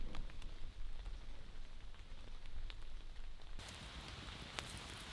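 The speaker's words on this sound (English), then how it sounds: "and it's raining." Heavy overnight rain falling on a shelter built from DIY store items, a steady soft patter with scattered sharper drops throughout, fairly quiet and with no voices.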